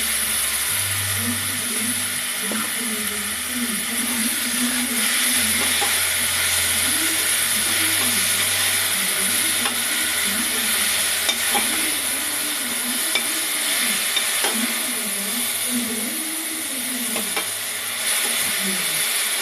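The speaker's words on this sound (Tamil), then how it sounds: "இது நல்லா கிளறிடணும்" Tomatoes and onions for a turkey gravy sizzle in a pan with a steady close hiss, while occasional faint clinks of stirring and a low tonal background carry on underneath.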